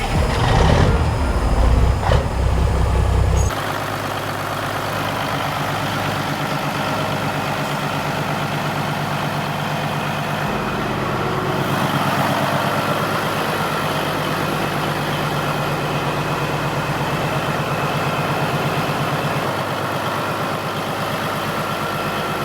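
A custom Peterbilt truck's engine cranks and catches, then settles into a steady, loud diesel idle, its low rumble running continuously as it builds air pressure.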